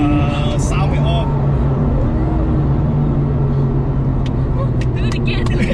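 A Porsche 911 Carrera 997.2 flat-six engine howls under load from inside the cabin, a loud, sustained droning roar with a steady tone throughout, while people talk over it.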